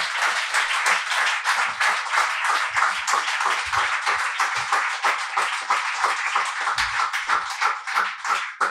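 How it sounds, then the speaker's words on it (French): A crowd on a boat claps loudly for jazz créole pianist Hervé Selcal. The applause is dense and sustained, many hands beating in a fast, slightly rhythmic patter, close and continuous for several seconds with no voices. "Je vais vous demander d'applaudir très fort Hervé Selcal au piano et au chœur"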